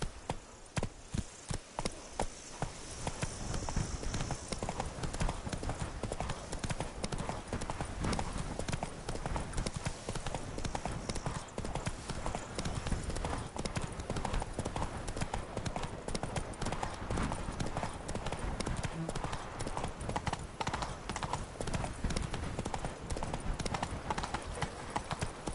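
Roach, Geralt's horse in The Witcher 3: Blood and Wine, trotting with a fast, steady clip-clop of hooves that carries on throughout and grows fuller after the first few seconds.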